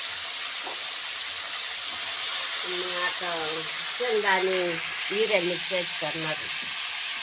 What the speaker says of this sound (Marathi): आणि त्याला फोडणी द्या पहिल्यांदी